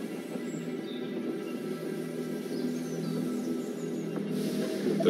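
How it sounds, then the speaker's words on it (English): Train pulling into a station in the strategy video game They Are Billions, a steady rumbling rail sound with faint high squeals and bird-like chirps, continuous at moderate level with no talk. "The train has arrived at the station."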